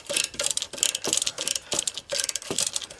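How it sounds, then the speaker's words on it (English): A ratchet fence wire strainer tightens its chain with repeated pulls, producing loud, close, rapid metallic clicking in regular bursts. "the ratchet, being a lot stronger, tightens the chain a lot less with each pull"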